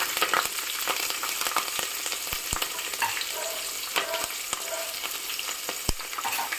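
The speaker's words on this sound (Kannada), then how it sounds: "ಶೇಂಗಾ ಸ್ವಲ್ಪ ಫ್ರೈ ಆದ ನಂತರ ಸಾಸಿವೆ, ಜೀರಿಗೆ ಹಾಗೂ ಹಸಿಮೆಣಸಿನಕಾಯಿಯನ್ನು ಹಾಕ್ತಾ ಇದ್ದೀನಿ." Peanuts, mustard seeds, cumin and green chillies frying in hot oil, a steady close crackling sizzle with scattered sharp pops and occasional stirring, and no talking.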